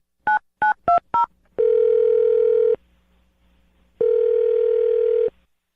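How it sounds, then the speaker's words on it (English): Four quick touch-tone keypad beeps, then two loud, steady dial-tone bursts separated by a silent pause, close and clean with no talk. "I'm going to dial her phone number right now"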